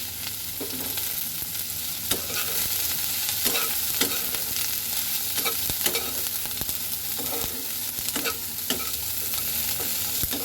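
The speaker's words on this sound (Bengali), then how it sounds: "পেঁয়াজ ভাজার সাথে সাথে আমি দিয়ে দেব কাঁচামরিচ দিয়ে দিলাম কেটে রাখা কাঁচামরিচ" Onion and chopped green chillies fry in a pan with a steady loud sizzle, broken by repeated sharp scrapes and clinks of a spatula stirring, close by and with no talk.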